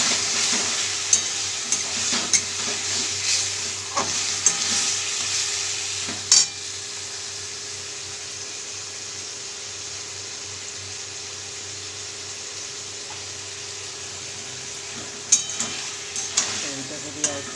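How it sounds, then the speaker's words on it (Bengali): Vegetables (potato, pumpkin, green banana and drumstick with neem leaves and lentil dumplings for sukto) being stirred in a pan after water is added, giving a soft steady sizzle with scattered scraping strokes of a spoon, no talking. "এইটাকে দিয়ে একটু জলটা দিয়ে একটু ভালো করে নাড়িয়ে নিলাম সবজিটাকে।"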